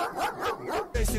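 A human voice imitating a dog, giving a quick series of yappy barks and yips over about a second, close and fairly loud.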